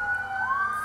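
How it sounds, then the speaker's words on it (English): A fire truck siren from a nearby firefighting base wails in a rising, steady sweep, heard briefly at moderate distance with no talk. "we always get fire trucks with sirens."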